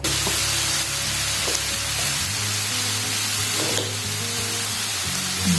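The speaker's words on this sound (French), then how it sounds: "On fait revenir le tout jusqu'à ce que mes légumes s'imprègnent des bonnes saveurs" Vegetables sautéing in olive oil with pepper and saffron, a steady close sizzle and hiss that holds evenly from start to finish, with faint stirring underneath.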